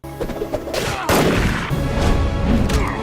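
Gunfire in the animated Batman series Caped Crusader: a loud blast and sustained crashing shots over a busy, noisy action soundtrack with no one speaking.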